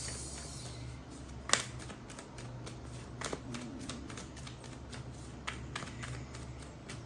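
Playing cards are shuffled over and over by hand during a card reading, a faint, close flutter of riffles and soft taps with occasional sharper snaps and no talking.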